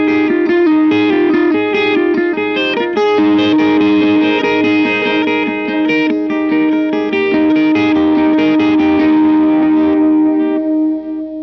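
A bridge section plays on an effected electric guitar through a Helix or POD Go modeler, busy distorted picked notes with chorus and echo repeating steadily, loud and continuous without speech.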